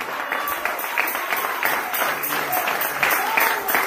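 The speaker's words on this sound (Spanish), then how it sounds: "denle fuerte ese aplauso a Cristo Jesús en esta hora" Church congregation clapping for Jesus at a night vigil service, with individual claps audible in a moderately steady rhythm and a voice faintly present underneath.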